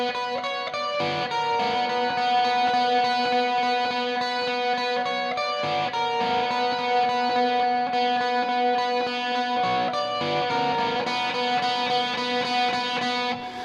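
Heavily distorted electric guitar through an ML Sound Lab high-gain amp simulator plays sustained, thick chords with a saturated tone, loud and continuous with brief pauses between phrases.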